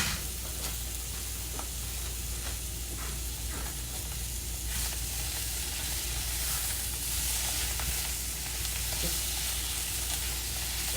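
Food searing in a pan during meal prep, a continuous close crackling sizzle with small pops and stirring clicks, fairly quiet and steady with no voices.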